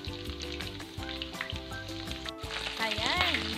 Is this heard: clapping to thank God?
no